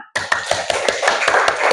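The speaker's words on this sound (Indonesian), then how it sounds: "Coba tepuk tangan dulu untuk kita semua." Children in a fourth-grade classroom clap their hands together in a quick, even rhythm of about nine sharp, close claps in under two seconds, with no talk.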